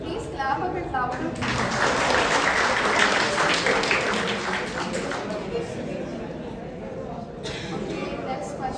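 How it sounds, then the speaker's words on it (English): Audience applause at a Go programming conference talk swells into a dense, steady wash of clapping from a sizeable crowd, sustained for several seconds with a brief dip before continuing. "Please clap a bit louder."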